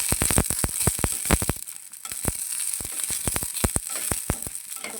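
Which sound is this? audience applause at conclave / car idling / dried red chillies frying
dried red chillies frying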